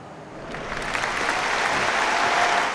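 At Twickenham, a rugby stadium crowd applauds England and Australia players, the clapping swelling from a moderate start into a loud, sustained roar of hands.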